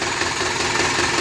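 A 1954 Minneapolis-Moline tractor engine runs steadily up close, a loud, continuous mechanical rumble with a faint knocking texture and no pauses.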